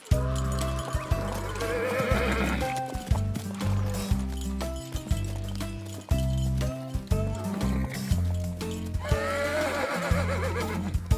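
A horse whinnies loudly near the start and again near the end, with clip-clopping hooves and a bouncy tune running throughout.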